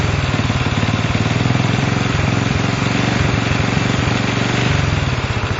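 A Honda CL70 motorcycle engine runs close up with a loud, steady, rapid putter and a slight wavering rhythm, with no talking.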